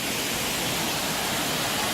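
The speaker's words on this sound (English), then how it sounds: "Similar to that waterfall there." A steady, dense roar of falling water from a waterfall on the Cross Island Trek in Rarotonga, Cook Islands, fills the brief moment evenly with no other sounds.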